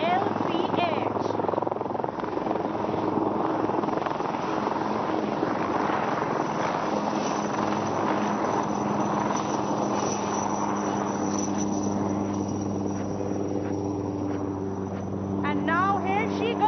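An LCH light combat helicopter puts on a flying display at Aero India 2021, a loud, sustained rotor and turbine roar with shifting pitch as it manoeuvres. An announcer talks over the noise.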